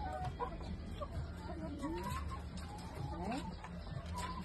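A hen clucks and squawks in agitated bursts during egg collection in a henhouse, close and fairly loud, with people talking over and between the calls.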